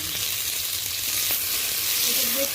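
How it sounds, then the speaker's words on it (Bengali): A paste of chilli, tomato and garlic frying in hot oil with black cumin, giving a steady, fairly loud hiss that runs unbroken from start to finish. "অল্প আমি কালো জিরে ফোড়ন দিয়ে দিলাম লঙ্কা টমেটো আর রসুন বাটা একসাথে দিয়ে দিলাম"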